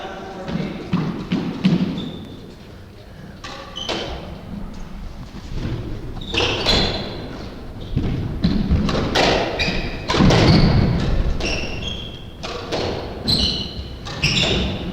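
Squash ball shots in a men's 30+ doubles rally, a series of sharp, echoing thuds and cracks off racquets and walls at irregular intervals, with crowd and commentary voices underneath.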